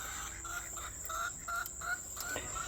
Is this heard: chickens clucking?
yes